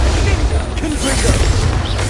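A fire spell called Confringo bursts in the Hogwarts Legacy video game, heard as a loud, dense explosive rumble with heavy low boom that fills the clip without a break.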